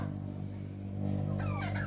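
A newly hatched turkey chick peeps with thin, high calls, a few short cheeps near the end over a steady low hum.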